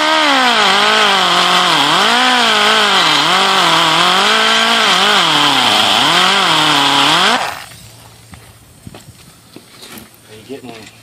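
A high-speed rotary tool with a carbide burr whines loudly for about seven seconds, its pitch dipping and rising as it grinds on a Yamaha WR250R skid plate, then cuts off, leaving quiet handling noises.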